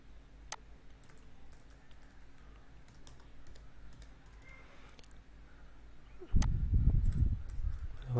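Faint, scattered keystrokes from a computer keyboard as code is typed for a Bootstrap alert tutorial, ticking quietly for several seconds before a louder low rumble takes over near the end.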